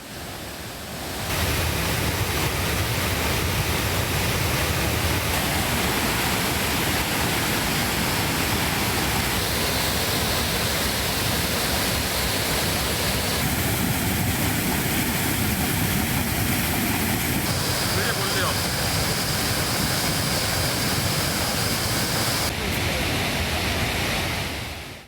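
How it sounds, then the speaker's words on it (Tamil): Manimuthar waterfall in the Western Ghats roars in flood after continuous rain, a loud, steady broadband rush of heavy falling water that never lets up. "மேற்கு தொடர்ச்சி மலைப்பகுதிகளில் தொடர்ந்து பெய்து வரும் மழையால் மணிமுத்தாறு அருவியில் நீர்வரத்து அதிகரித்துள்ளது."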